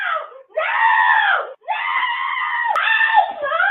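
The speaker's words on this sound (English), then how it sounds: "her loud screams echo through the night." A woman screams loudly at night in long, high, strained wails, three sustained cries broken by short breaths.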